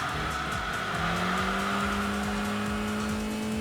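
Car tires squeal steadily through an all-wheel drive drift in the Enthusia racing game, a sustained high whine over the continuous engine drone, with rising tonal pitch shifts.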